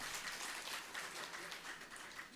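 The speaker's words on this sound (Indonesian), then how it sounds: "tepuk tangan untuk kita dulu" A congregation at a Sunday church service claps together, a faint, steady patter of applause heard from some distance with no clear voices.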